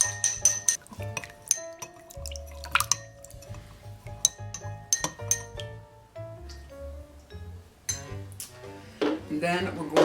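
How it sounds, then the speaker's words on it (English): A spoon stirs sugar into a gin fizz in a glass, giving repeated bright clinks and light scraping against the glass with some liquid swirling near the end. "So we're going to stir that up and get that sugar dissolved."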